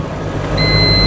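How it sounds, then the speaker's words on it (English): A gear advisor in a Tata Intra V50 pickup truck gives a single steady electronic beep over the loud drone of the engine in the cab. "those beeps are the gear advisors beeping"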